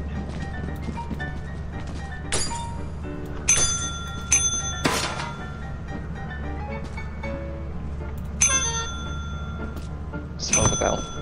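Metallic bell in the video game Lethal Company rings out in several sharp, ringing strikes spread over the clip, each with a lingering tone, over a steady low hum of game ambience.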